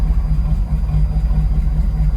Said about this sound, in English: Actually sounds like it wants to stall out.